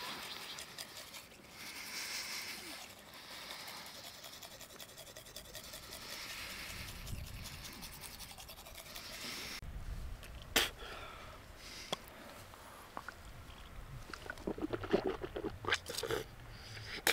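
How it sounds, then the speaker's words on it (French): Teeth being brushed at a bivouac camp during a multi-day mountain trek, a fast scratchy scrubbing that runs steadily, then breaks into intermittent brushing strokes, sniffs and small wet clicks, close and quiet. "C'est l'heure du lavage de dents."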